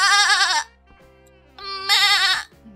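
A goat in the Roblox video game bleats twice, loud and close, each wavering cry lasting about half a second with a brief quieter gap and faint game tones between them.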